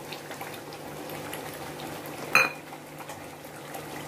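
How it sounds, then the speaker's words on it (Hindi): Chicken frying with chili paste gives off a steady low sizzle and bubble throughout, with one brief sharp clink of a utensil against the pan midway. "दो मिनट हो गए हैं हमको मिर्ची पेस्ट के साथ इसको भूनते हुए।"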